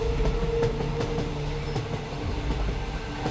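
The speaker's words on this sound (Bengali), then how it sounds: "ট্রেন ছুটছে হাওয়ার গতিতে" A train races along at speed, heard from inside a carriage as a steady, loud rumble with faint rhythmic clicks from the wheels on the track.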